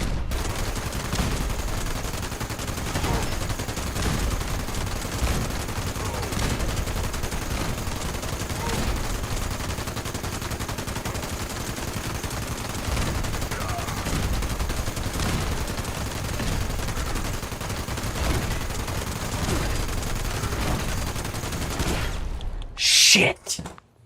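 Sustained gunfire in Fallout 76, repeated shots in loud bursts with a steady rhythm over a busy game background, with a voice talking over parts of it and a sharp sound near the end.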